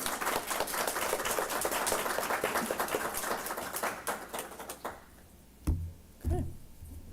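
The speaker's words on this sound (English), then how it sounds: "if we could give one last round of applause to our panelists" Audience applause for the panelists at a Pittsburgh environmental justice summit, a dense, sustained round of clapping from the room that thins out and stops after about five seconds, followed by a couple of soft bumps.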